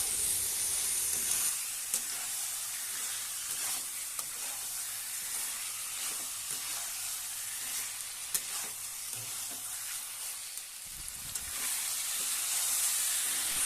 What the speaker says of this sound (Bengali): এরপর আমি এর মধ্যে চিকেন স্টমাকটা দিয়ে দেব। এবার এটাকে খুব ভালোভাবে মশলার সঙ্গে মিশিয়ে নিতে হবে।